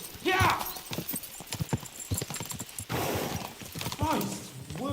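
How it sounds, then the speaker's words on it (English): Horses clip-clop steadily on a road in the medieval game Kingdom Come: Deliverance II, hooves clattering quickly under loud talking voices, with a brief whinny. "We should spur the horses on."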